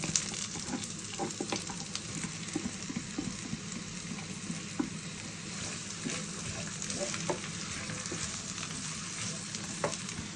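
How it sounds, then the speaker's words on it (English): Onions fry in a pan with a steady, faint sizzle, and soft scraping or stirring ticks sound now and then throughout. "so I'm going to start first by frying the onions."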